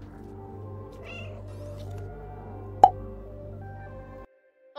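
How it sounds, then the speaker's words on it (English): A cat in the video game Stray gives a short meow over quiet ambient game music, followed by a single sharp drip-like plop before the sound cuts out. "we meowed and he smiled at us?"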